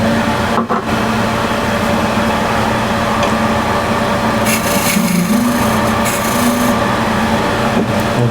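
A turned wooden box lid is worked against its tapered suction fit, producing steady rasping friction and rubbing. Lathe-like mechanical hum runs underneath with a few brief squeaks, close and loud, and no voices.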